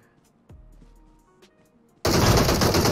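Gunfire in the mobile battle royale game PUBG Mobile erupts in a sudden loud, sustained burst after a quiet stretch with faint game tones.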